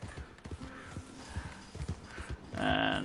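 Horse hooves clip-clop in a glitchy open-world video game city, a steady run of close hoofbeats, ending in a brief whinny-like tonal cry.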